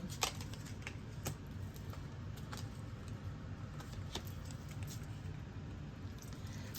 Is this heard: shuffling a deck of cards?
yes